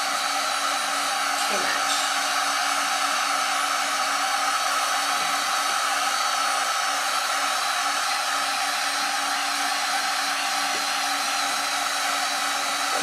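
Black & Decker heat gun blowing steadily on a wood sign coated with torch paste, a constant airy roar with a fan whine that holds for the whole stretch, with a brief spoken remark near the start.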